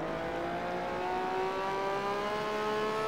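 A race car in Gran Turismo HD Concept accelerates, its engine note climbing in a smooth rising whine through the gears. The sound is loud and continuous, with no talk over it.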